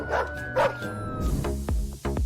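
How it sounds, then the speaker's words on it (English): Hostile dogs barking and yelping close by, several sharp barks and whimpering yips in quick succession, loud and alone without talk. "the one on the left will end up face to face with these pretty unfriendly dogs"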